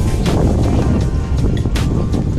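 Strong wind on a cold 6-degree ride buffets the microphone continuously, a loud rumbling roar with gusty surges throughout.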